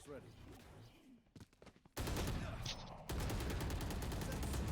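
Gunfire from a Valorant high school esports match rattles in dense bursts, loud rapid volleys after a quieter opening where a voice speaks, continuing as sustained automatic fire to the end.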